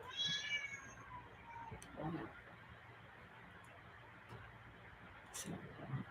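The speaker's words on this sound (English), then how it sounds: "And the cat's crying too." A cat cries with a few plaintive meows near the start, heard against a steady background hum of passing road traffic, with brief scattered noises later.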